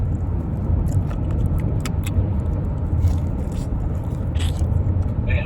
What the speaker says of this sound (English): I've got something making noise with this truck. You hearing that?